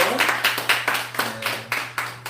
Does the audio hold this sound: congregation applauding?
yes